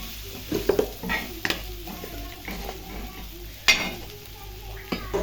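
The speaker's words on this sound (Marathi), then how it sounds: "आधी आपण मिक्स करून घेऊया" Maggi masala being stirred into chapati noodles in a pan, with irregular spatula scrapes and knocks against the pan over a faint sizzle, close by and without talk.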